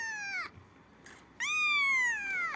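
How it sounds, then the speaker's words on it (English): A kitten gives two clear, high meows, close and fairly loud with a brief pause between them, the second longer and drawn out. "I have 6 kittens."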